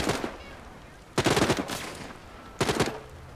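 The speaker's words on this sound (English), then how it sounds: "I almost got hit by stray gunfire there." Automatic gunfire from patrols fighting each other in the Walking Dead Saints and Sinners VR game comes in three loud rapid bursts at mid distance, separated by short pauses.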